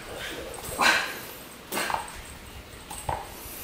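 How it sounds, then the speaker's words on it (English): A dog barking indoors near a market, three short sharp barks spread across the moment, fairly close, with a person speaking in between. "what are you barking at?"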